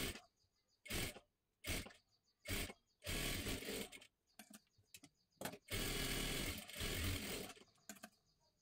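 A sewing machine stitching a blouse runs in bursts, with short whirring spurts at first, then longer runs of stitching and a final quick burst, loud and close, with no talking.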